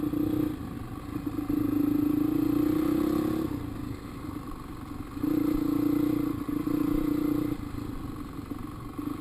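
A dirt bike riding on a track, its engine droning and rising in two long revving passes with a quieter stretch between, fairly close with some rattling.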